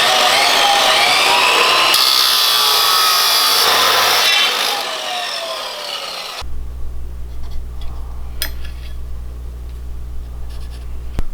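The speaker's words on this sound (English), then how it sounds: "So we need to cut a piece of 40-inch tubing" A 40-inch piece of tubing is cut for a drag mini bike build: a loud, steady rasping saw for about six seconds, then quieter handling noises.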